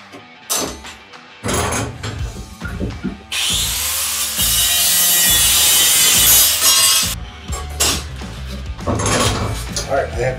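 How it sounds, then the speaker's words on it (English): Steel circular saw blade being cut down the center with a power tool, a loud, harsh sustained grinding screech for several seconds, framed by shorter bursts, clanks and handling noises before and after. "I'm going to cut a line directly down the center of this circular saw blade."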